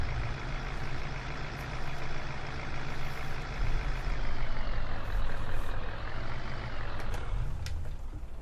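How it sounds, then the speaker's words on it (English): A truck in the video game Farming Simulator 15 rumbles steadily as it parks in a shed, its engine droning loud and close with slight rises in revs and a brief hiss near the end. "Park the truck over here in the shed for the time being"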